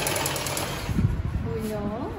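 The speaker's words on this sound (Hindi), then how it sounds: "सिलाई कर रहे हैं भाई" A sewing machine stitches with a steady, busy mechanical whir, with a voice speaking briefly near the end.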